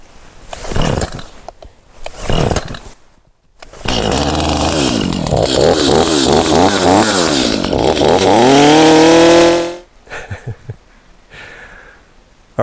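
A chainsaw cuts through a Kore Essentials Garrison gun belt. After a few short bursts, a loud, close engine roar revs steadily for about six seconds, its pitch sweeping and rising, then cuts off abruptly.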